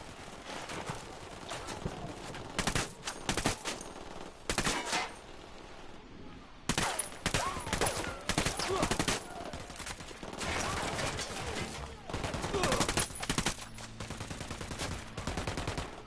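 Gunfire in Ghost Recon Wildlands, repeated loud bursts of automatic shots separated by short quieter gaps amid outdoor game ambience.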